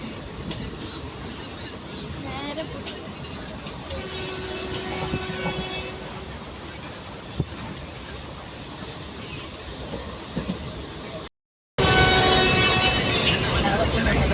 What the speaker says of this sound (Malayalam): ഞങ്ങളിങ്ങനെ ട്രെയിനിൽ യാത്ര ചെയ്യുന്ന സമയത്ത്